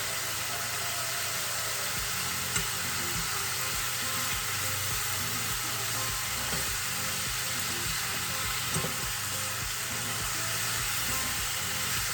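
A chicken and vegetable stir fry sizzles in a crowded pan with liquid released, giving a steady close hiss that stays even throughout with no speech and only faint occasional clicks.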